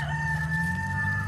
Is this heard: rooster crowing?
yes